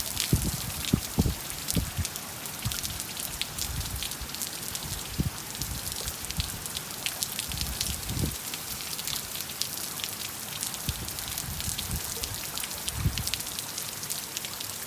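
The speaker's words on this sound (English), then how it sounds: "You can tell the wind is blowing because of the way the rain is going." Steady, dense rain from Hurricane Zeta pours down and spatters on surfaces outdoors, a constant hiss with scattered louder drops and thumps close by, continuing without pause and with no voices.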